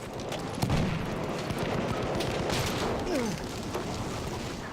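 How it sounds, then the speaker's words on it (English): Mortar fire and battlefield gunfire in Battlefield 1's Brusilov Offensive, a dense, continuous barrage of booms and shots with a sharp blast early on, loud and sustained throughout. "And a mortar."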